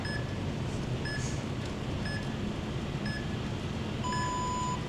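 A workout interval timer: short electronic beeps repeat about once a second, then a longer, steady tone sounds, all over a constant background hiss.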